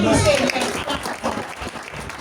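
An audience applauds and acclaims Jesus with a broad wash of clapping that rises and falls. Voices blend in beneath it throughout.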